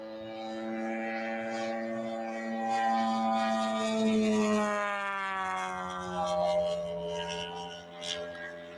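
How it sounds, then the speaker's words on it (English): A large radio-controlled model plane's engine sweeps past in a smooth, rising and falling whine with strong tonal overtones, swelling as it nears and fading as it pulls away. "it sounds like a real plane when it comes by you."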